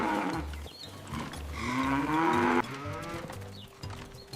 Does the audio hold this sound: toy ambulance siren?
no